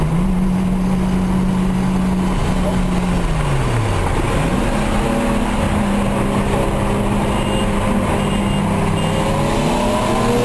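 Car engine held at a high, steady drone with pitch dips and swells as it revs, loud and continuous throughout with no speech.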